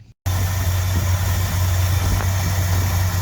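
An old car engine runs at a steady idle right after starting, with engine flush goo burning through, loud and close with a constant low rumble after a brief quiet moment at the start.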